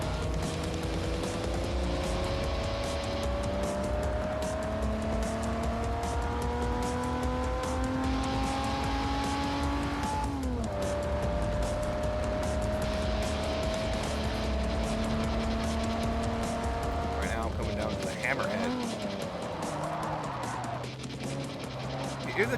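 DeLorean with a rear-mounted engine and rear-wheel drive, driven in Forza Motorsport 4: a steady engine drone rising through gears with clear shifts, brief tire squeal and a sharp slowdown near the end.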